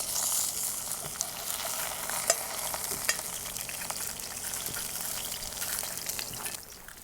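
Trout fries in a cast iron skillet with a steady, close hiss and sizzle, broken by scattered pops and crackles of spitting fat. The frying stays even throughout and fades near the end, with no talking.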